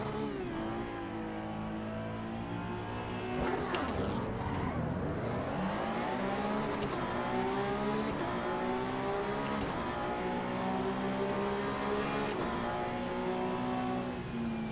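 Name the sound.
race cars driving past in video game Assetto Corsa EVO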